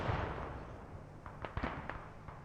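BMP armored vehicle cannon fire rings out in the Squad video game on a modded Panjwai map. Several muffled distant pops and thuds come over a steady rumbling background.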